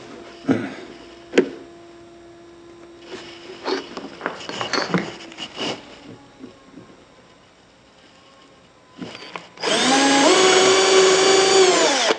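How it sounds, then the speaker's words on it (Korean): A power drill bores holes into a wooden cabinet panel: scattered knocks and handling clatter at first, a short whirring spin, then a loud, steady high-pitched drilling run near the end. "반대쪽도 똑같이 표시를 하고 구멍을 뚫겠습니다"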